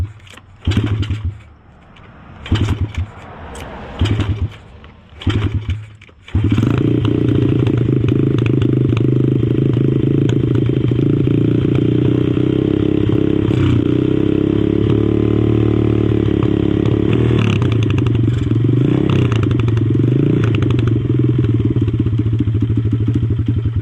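A modded pit bike engine sputters through several short cranking bursts, then catches and runs with a loud, steady, close idle rumble, revving slightly now and then.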